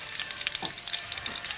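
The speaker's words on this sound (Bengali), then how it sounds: "এবার সব কিছু একসাথে এগুলো ভেজে নিচ্ছি।" Dried chillies and an olive pickle mixture fry together in a pan, producing a close crackling sizzle with scattered pops and a short stirring scrape, no voices present.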